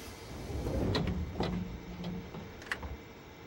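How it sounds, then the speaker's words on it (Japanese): Train doors closing on track 2 in THE Yamanote Line Train Simulator game: a soft motorised slide with a few faint clicks and a light thump, quiet and steady over low station ambience. "2番線ドアが閉まります。"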